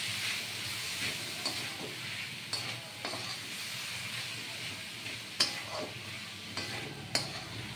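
A cauliflower roast paste of ground cashew, poppy seed, ginger, garlic and mustard fries in a little oil with a steady sizzling hiss, while occasional stirring scrapes and clinks sound in the pan.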